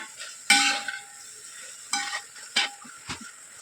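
Kasi halwa with roasted cashews being stirred in a pan, a few distinct scraping and stirring strokes with short pauses between them, close and fairly quiet, with no voices.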